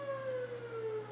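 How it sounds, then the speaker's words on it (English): Fire department siren wailing steadily in the background, a sustained tone slowly gliding downward over a low constant hum, with no talk. "You might hear the siren in the background."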